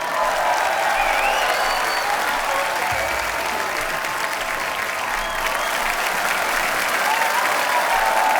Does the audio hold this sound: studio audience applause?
yes